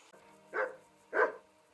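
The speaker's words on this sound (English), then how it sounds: "Oh wow, didn't realise there was 3 dogs." Two loud, close dog barks from dogs in the video game Kingdom Come: Deliverance, spaced about half a second apart over a low steady hum.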